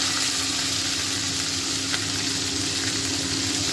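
Onion, garlic and green chili fry in hot oil with a dense, steady sizzle and faint stirring, close and even throughout, with no voices.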